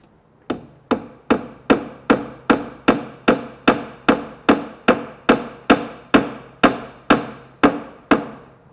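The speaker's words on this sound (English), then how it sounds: "we're going to tap it in just like we did before with the previous one" A hammer taps a wooden plug into a faux tenon on a Greene & Greene style rafter tail table, about sixteen evenly spaced, crisp close strikes in a steady rhythm with no talking.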